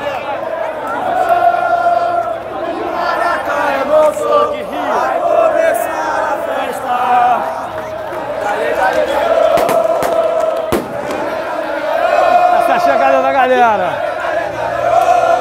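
Flamengo supporters arriving at the Maracanã stadium, a dense crowd chanting and shouting loudly and continuously, with a voice talking close over the din throughout.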